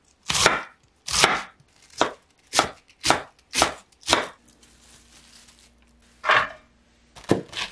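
Stacked cabbage leaves being shredded with a knife on a cutting board, eight or so crisp, loud chopping strokes in a quick regular rhythm, a short pause, then a few more cuts, close by with no talking.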